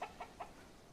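A chicken in the Bellwright video game gives three quick, soft clucks in a short burst, fairly quiet against a low background.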